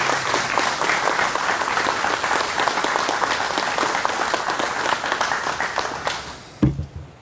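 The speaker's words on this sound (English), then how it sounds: "I want a big round of applause for our fire chief" Sustained crowd applause at a fire station dedication ceremony, dense and steady for about six seconds before tapering off, with a final thump and a few stray claps at the end.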